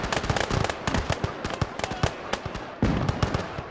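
Italian artillery in the World War I battle game Isonzo, heard as a fast volley of sharp, crackling blasts and booms, dense and irregular, loud and close with no talk.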